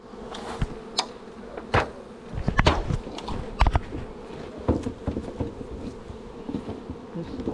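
Honeybees buzzing around an open hive during a honey harvest, a steady close drone with individual bees zipping past, plus occasional soft knocks and thumps from handling the hive.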